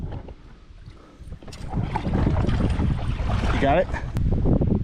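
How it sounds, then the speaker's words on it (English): Rough, gusting wind buffets a kayak on a lake, with loud roaring microphone wind noise and splashing water building after the first seconds. A person speaks briefly over it. "It's some rough wind, but I think we'll be okay."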